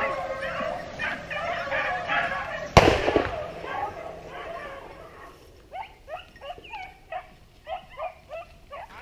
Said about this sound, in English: So that was the second gunshot of the morning.